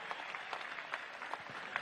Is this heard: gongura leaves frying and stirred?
no